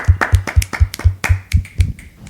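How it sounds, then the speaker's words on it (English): A small audience claps together after a table read, each clap sharp and close, landing in an uneven, loosely steady rhythm. "it's customary to clap at the end of a table read"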